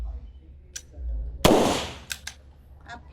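A single close, sharp handgun shot fired at a target during grip training, a loud crack with a short decaying tail, followed by a couple of faint clicks.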